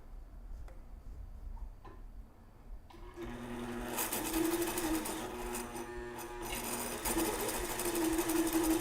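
A sewing machine stitches a muslin hat strap seam, starting after a quiet moment and then running steadily with a fast, even ticking whir, close by.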